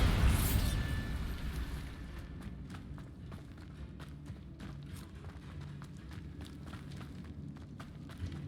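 A Bombarda blasting spell from Hogwarts Legacy goes off as a burst at the start, followed by quieter game ambience with scattered light footsteps and clicks.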